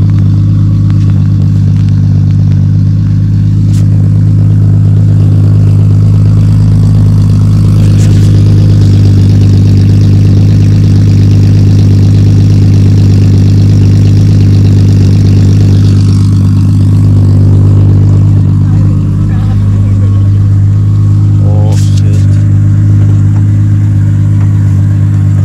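A 1JZ-swapped Nissan G35 with HKS 272 cams runs close and very loud, with a deep, steady engine drone and a few rises in revs, outdoors in a Toronto car-scene setting.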